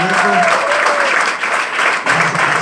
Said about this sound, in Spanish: Vamos a darle otro fuerte aplauso.